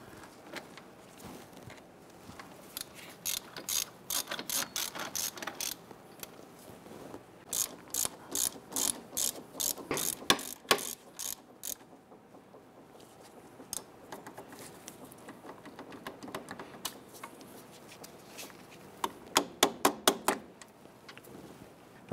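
A ratchet runs wheel hub bolts down on a 1999-2004 Jeep Grand Cherokee during a hub assembly replacement, fast clicking bursts repeating in several runs with short pauses between, close and clear with no talking.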